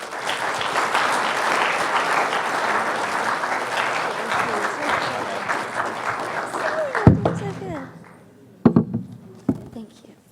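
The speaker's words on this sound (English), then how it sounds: "Let's give a big round of applause for blind sensor navigation" Audience applause after a student cybertechnology and security presentation, steady clapping from a crowd for about seven seconds before fading into scattered claps and brief talk.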